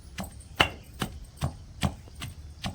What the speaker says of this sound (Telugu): వెల్లిపాయ, జీలకర్ర, చింతపండు వేసేసి మెత్తగా నూరుతున్నాను